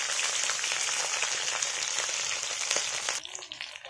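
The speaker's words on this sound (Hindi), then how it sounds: "इसको हम फ्राई करते हैं हल्का से, इसको हम चला देते हैं अभी हल्का हाथे फ्राई करते हैं हल्का तेल में।" Potato and cauliflower fry lightly in a little oil, giving off a steady, close sizzling hiss that dies away abruptly near the end and leaves only faint crackles.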